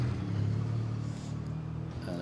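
A racing car pulls away at the Goodwood Festival of Speed hill climb, with a strong low engine roar that rises and then eases as the car moves off, under crowd and ambient noise.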